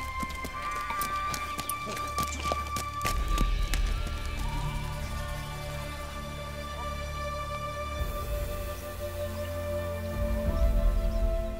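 Horses walking a mountain trail toward the 3400-metre Karagay Pass along the Silk Road in Kyrgyzstan, steady hoof clip-clops close by, with a continuous tonal drone and scattered sharp knocks and rattles of tack.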